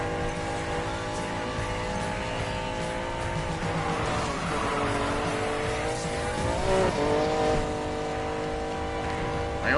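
A Pagani hypercar with a modified exhaust races in Need for Speed Payback, its loud engine note climbing and dropping through gear changes and revs, with brief tire squeal, close and continuous.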